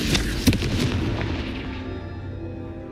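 A Confringo fire spell blast in the Hogwarts Legacy video game lands as one sharp, close explosive crack, then a rumbling, crackling tail slowly fades over a few seconds.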